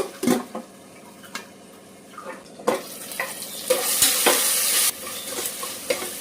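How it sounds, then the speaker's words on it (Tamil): Tomatoes added to a pan for vegetable pulao sizzle in hot oil, with repeated stirring scrapes and clinks of a spoon against the pan, moderately loud and close. "இந்த ஸ்டேஜில் தக்காளியை போட்டுற வேண்டியதாங்க."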